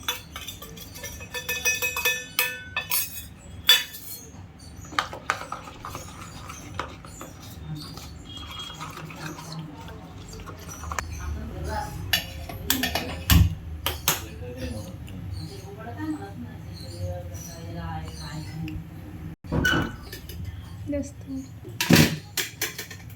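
Garam masala, paneer masala and yogurt being mixed in a bowl for palak paneer, with irregular clinks and scrapes of a spoon against the bowl, close and intermittent, under occasional speech.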